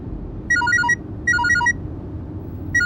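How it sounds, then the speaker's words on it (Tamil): A telephone plays an electronic melodic ringtone in short repeating bursts, three phrases with pauses between them, loud and clear over a low background hum. "ஃபோன்"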